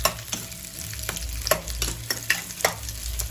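Onion and tomato sautéing in oil on a tawa for pizza sauce, a close, steady sizzle broken by regular scraping and stirring strokes of a spoon.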